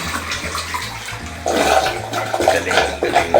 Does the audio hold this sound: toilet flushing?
yes